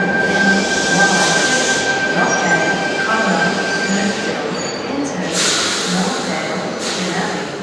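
A Sydney suburban train rumbles at a platform, with a continuous roar of wheels and a thin high squeal, some brake hiss bursts, and a faint voice underneath.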